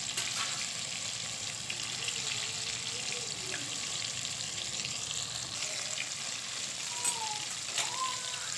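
Bitter gourd fries in hot oil, a continuous dense crackling sizzle that holds steady and close throughout, with a few faint clinks of tongs.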